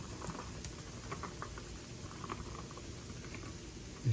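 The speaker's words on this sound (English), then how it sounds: "You can start to hear it. A little sizzle." Okra sizzles softly in a cooking pot on the stove, with okra and tomatoes being cooked. The frying patter and crackle is steady and close, with no talking.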